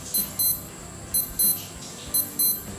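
A Skmei 1998 digital watch alarm beeps in three short bursts of two high, thin electronic beeps each, close and clear, with nothing else audible.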